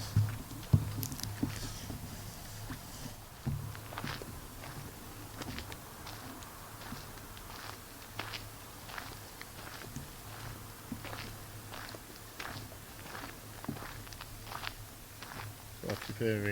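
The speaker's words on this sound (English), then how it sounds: "I keep hearing footsteps around me" Footsteps crunch through woodland at night near Moira Furnace, landing in a steady walking rhythm of soft, close-up steps with faint rustling and occasional voice sounds.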